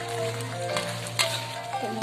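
Crab in oyster sauce boiling and sizzling steadily in a pan, a close, continuous bubbling hiss with faint clinks, no talk.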